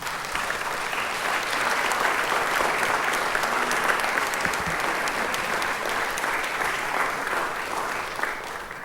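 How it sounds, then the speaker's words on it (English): Sustained applause from an audience at a council event where women read a victim impact statement aloud, a steady wash of many hands clapping throughout with no voices on top. "I want to give you another big round of applause."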